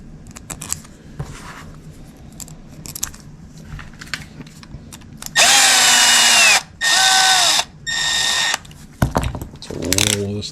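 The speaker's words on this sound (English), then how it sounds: "So we will put our cover screws back in" Screws driven in with a power driver into an RC axle cover on a Treal SCX10 Pro single-piece axle, three loud whirring bursts after quieter handling and clicking.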